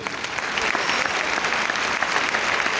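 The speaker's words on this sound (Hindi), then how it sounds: "तो मैं चाहूंगा एक बार सबके लिए जोरदार ताली होनी चाहिए" An audience claps together in dense, steady applause at an anniversary celebration, a continuous wash of hand claps filling the whole stretch with no voices standing out.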